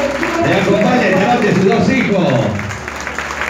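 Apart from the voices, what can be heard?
applause for Ramón at his birthday party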